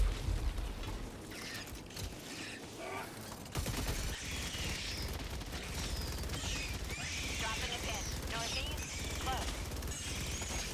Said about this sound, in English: Let's see how the Gatling simply deals with them.